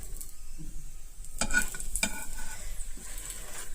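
A chapati frying in a little oil in a pan, a steady close sizzle with a couple of sharp scrapes or taps of a spatula against the pan midway, no talking.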